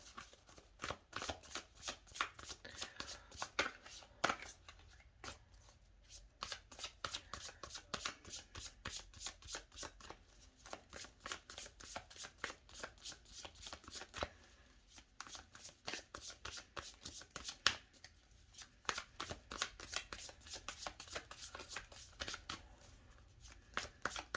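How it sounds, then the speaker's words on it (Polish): Tarot cards being shuffled by hand, a steady run of crisp riffling flutters and soft slaps that repeat continuously at close range with no talking. "Moje no drogie wodniki, tasuję."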